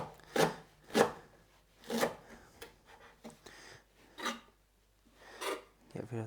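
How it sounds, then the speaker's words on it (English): A knife roughly chops a bunch of fresh parsley on a board for a couscous salad. About eight separate, quiet, scraping strokes come at an uneven pace, with soft talk between them. "Give that a rough chop first."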